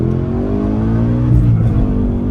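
A 2021 Ford Mustang Mach 1 V8 revs loud and close on an upshift, a sustained rising and falling engine drone with a swell of throttle midway and no voices over it.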